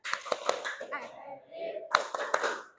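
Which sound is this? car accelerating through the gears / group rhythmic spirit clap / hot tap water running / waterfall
group rhythmic spirit clap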